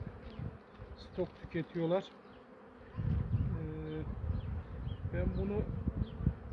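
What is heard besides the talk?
honeybees buzzing at the hive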